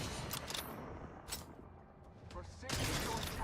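Video game gunfire pops out in a few sharp shots early on, then a louder sustained burst of rapid fire near the end, with a voice talking over the game.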